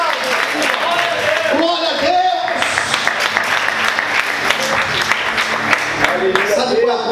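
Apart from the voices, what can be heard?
church congregation applauding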